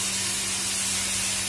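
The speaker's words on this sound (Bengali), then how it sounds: "একটু স্লাইড জল দিলাম" A splash of water hits spice paste with turmeric frying in a pan for a hilsa fish curry, setting off a loud, steady hiss of steam and sizzle that carries on unbroken, with no talk.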